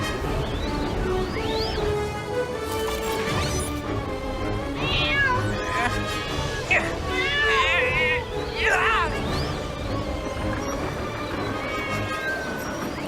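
A cartoon cat meows several times in rising, drawn-out cries, mixed with music and character voices in an animated children's show.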